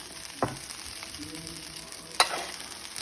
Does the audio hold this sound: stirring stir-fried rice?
yes